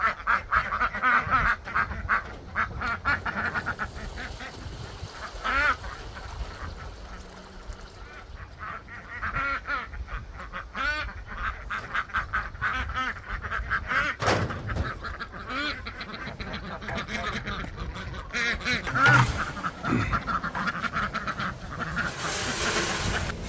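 Ducks on a small farm quack and honk continuously, several birds calling at once at moderate distance, with no talking over them.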